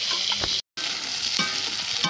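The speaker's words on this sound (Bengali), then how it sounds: "চিংড়ি মাছগুলো দিয়ে দিচ্ছি কড়াইতে।" Prawns seasoned with salt and turmeric fry in hot oil in a kadai, giving a loud, continuous close-up sizzle with a brief break of silence near the start.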